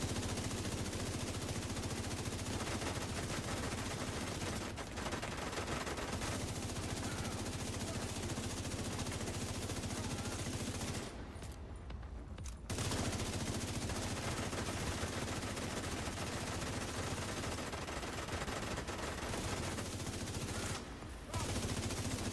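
Dense, continuous gunfire and explosions fill a firefight in the video game The Division 2, rapid automatic bursts rattling almost without pause, with only brief lulls.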